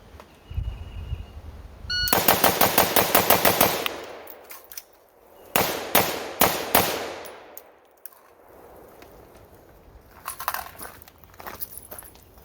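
Carbine fired during the Manzano Tactical 7-7-14 shooting drill, a rapid string of sharp, loud shots, then two or three more bursts of quick shots with short pauses between them, some echoing outdoors.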